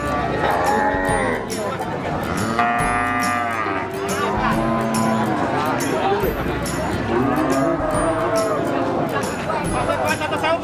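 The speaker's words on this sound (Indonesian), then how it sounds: "Sapi-sapi betina PO dan Pegon, ada bibitan, ada toro," PO and Pegon cattle, breeding cows, bulls and dams, lowing repeatedly in a pen, several loud overlapping moos close by, with voices talking faintly underneath.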